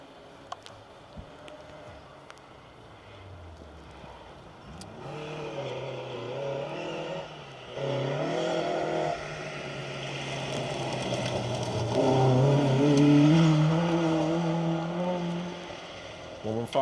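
A Ford Escort Mark II rally car on a forest stage of the Roger Albert Clark Rally, engine rising and revving as it approaches and passes, growing louder toward the middle, under commentators talking.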